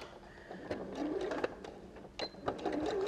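A sewing machine stitches fabric for a dog bow tie collar in short bursts of rapid mechanical clatter, close and fairly quiet, with pauses and small clicks between runs.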